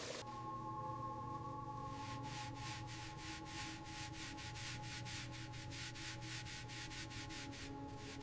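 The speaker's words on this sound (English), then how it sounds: "The spokes have decades of grime, but this SK polish cuts right through." Grimy chrome wheel spokes on a 1928 Hispano-Suiza H6C are polished with SK polish, producing close, rhythmic rubbing strokes at a quick, steady pace with no talking.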